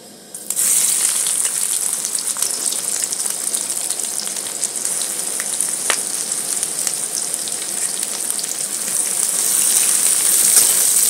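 Onions fry in hot oil with a small bay leaf for a Bengali doi chingri prawn curry, a steady close, loud sizzle that runs on without a break and grows a little stronger toward the end.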